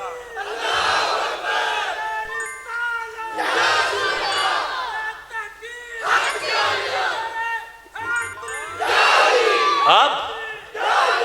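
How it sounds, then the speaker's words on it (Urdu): A large crowd at a religious gathering shouts slogans in unison, loud and close, in repeated bursts of massed voices with short pauses between each chant. "بس چند نعرے لگا کے دیکھ لو"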